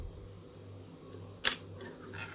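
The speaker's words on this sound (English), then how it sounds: "Oh, the shutter release." Shutter release of a 1955–1960 Agfa Super Silette 35mm rangefinder camera: a single sharp, close mechanical click in a quiet room, followed by faint handling sounds.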